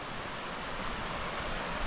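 Water of Panther Creek on the Middle Prong Trail rushes steadily in a dense, even broadband wash, close and continuous with no voices.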